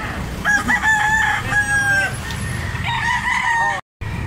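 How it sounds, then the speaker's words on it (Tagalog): A black leg rooster crows twice nearby, each call a loud drawn-out cock-a-doodle-doo with light clucking, over faint outdoor background noise. "Black leg ang manok ito tay"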